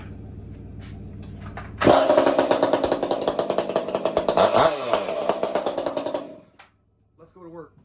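A chainsaw, one of the smaller saws being readied before a tree climb, starts and runs in loud pulsing revs for about four seconds, then cuts out. A voice speaks briefly before the start and again after it stops.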